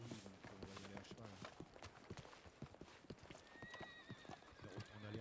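Horse hooves clip-clop steadily in a western video game, a brisk rhythmic gait near and clear, with a whinny partway through and game ambience and a faint voice in the background.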